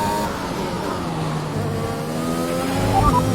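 A Formula 1 race car engine screams steadily in the F1 2021 video game during a race, the high-revving note shifting as the car accelerates near the end.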